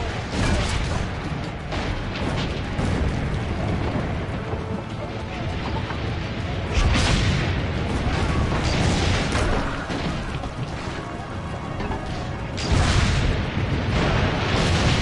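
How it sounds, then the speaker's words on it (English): Cannon fire in the video game Assassin's Creed Brotherhood, dense battle noise with booming blasts that swell around two points, heard under steady rumbling clatter and occasional voices. "Load the cannon. Destroy their cannons, Tito!"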